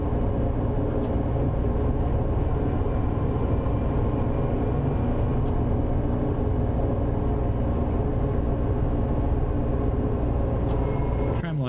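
A tram in the video game City Transport Simulator rolls over points, giving a steady, loud rumble of wheels on rail with faint clunks and brief high squeals as the track switches, with no pauses across the run.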